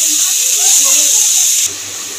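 Washed red amaranth greens dropped into a hot oil tempering give a loud, continuous steamy hiss that cuts off sharply near the end, leaving a low hum.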